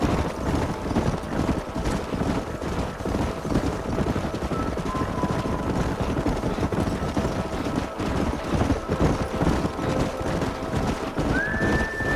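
Horses' hooves clip-clopping in the Western video game Red Dead Redemption, a continuous dense patter of hoofbeats under wind and ambient rumble, with a brief tonal whine near the end.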